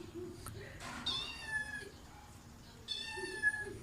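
A cat meows twice, two drawn-out, high-pitched cries separated by a short pause, close by, with faint background noise.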